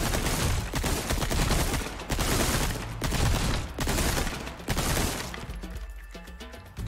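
Rapid TMP submachine gun fire in Resident Evil 4 Remake: loud, dense, sustained automatic bursts with sharp cracks, easing off near the end.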